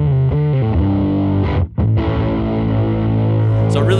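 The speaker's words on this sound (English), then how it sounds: "you can layer in the distortion, which is the A side of the Pugilist" An electric guitar plays through a Fender Pugilist distortion pedal on its A side, a crunchy medium-gain tone with chords and single notes, a brief gap midway, and no voice over it.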